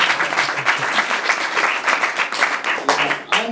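Audience at a graduation ceremony applauds, a dense steady wash of many hands clapping at close range for the full few seconds, fading slightly at the end.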